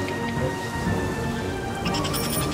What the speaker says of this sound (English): It's raining now, actually.